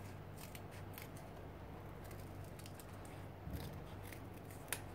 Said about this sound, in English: I'm using nail scissors